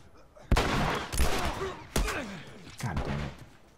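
Gunfire in The Last of Us rings out in a few sharp, loud bursts with ragged tails, spaced irregularly, while voices chatter underneath.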